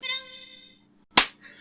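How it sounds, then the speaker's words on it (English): A single sharp hand clap, close and fairly loud, follows a short fading tonal sound and a pause of near silence, with faint low background afterward. "Do you want me to clap?"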